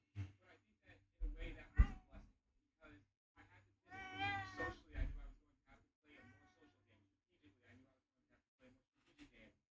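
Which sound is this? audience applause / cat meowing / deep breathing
cat meowing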